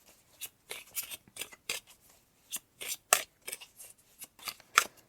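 Tarot cards being picked and handled, giving a series of short, crisp papery swipes and snaps at irregular intervals, close and fairly quiet with no talking.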